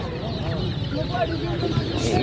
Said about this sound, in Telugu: సో కోడి పిల్లలు అయితే ఇవ్వనమాట, కలర్ కోడి పిల్లలు